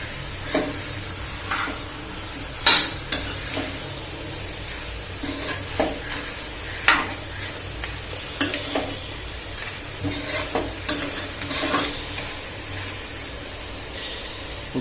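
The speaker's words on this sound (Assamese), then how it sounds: "মাংসখিনি ধুনীয়াকৈ লুটুই পুটুই কৰি দিছোঁ। এতিয়া অলপ দেৰি ভাজিম" Pork pieces sizzle steadily in a hot pan while being stirred, with a constant frying hiss broken by sharp scraping and clattering strokes, close and moderately loud with no talking.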